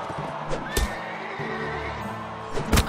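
A horse in the video game Mount and Blade Warband whinnies and snorts in a few short bursts, with clip-clop hoofbeats and game battle noise underneath.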